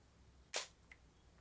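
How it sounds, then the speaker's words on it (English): A single sharp, quiet mechanical clack as a camera's mirror flips up when the shutter button is pressed in mirror-up mode, followed by a faint small tick in an otherwise quiet room. "when I depress the shutter button"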